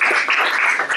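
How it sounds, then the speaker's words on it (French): Brief audience applause at a Java EE talk: a dense, crackly patter of many hands clapping together, steady and fairly loud for about a second. "On applaudit bien fort, monsieur."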